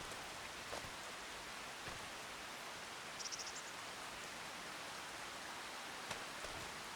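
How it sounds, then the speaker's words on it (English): Rain falls in the farming game Farming Simulator 25, a steady, even hiss of downpour with faint scattered drop taps, continuous and fairly soft, with no voices. "So it's raining"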